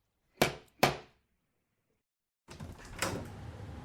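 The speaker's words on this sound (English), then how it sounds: "A policewoman knocked at the door." Two sharp knocks on a door, close and distinct, then a short silence and a burst of indoor movement and door noise.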